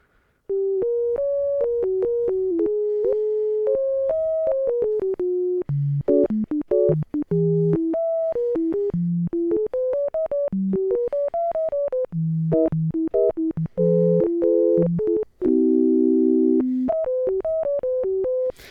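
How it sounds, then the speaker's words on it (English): A Korg Minilogue's resonant filter, played like an oscillator, plays a lively melody of short pitched notes, bright and whistly, with sustained chords near the end, loud and alone. "you're able to actually play the filter like an oscillator"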